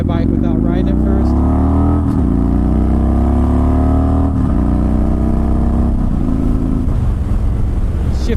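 A 2008 Victory Vegas 8-Ball motorcycle engine roars loudly as the bike is ridden, revving up through rising pitches with several shifts between gears, close and continuous.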